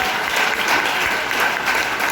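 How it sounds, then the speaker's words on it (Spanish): A church congregation applauds during a Sunday morning service, a dense steady wash of many hands clapping throughout. "Alguien que aplauda a Dios poderoso en esta mañana."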